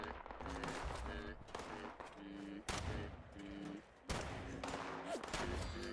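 Gunfire crackles in the video game Fallout 76 as bursts of rapid shots ring out in several clustered volleys, loud and close, with brief pauses between them.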